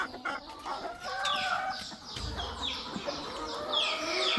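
Hens clucking and calling in a farmyard, with repeated rising squawks and rooster-like calls close by, continuous over a faint outdoor background; no speech.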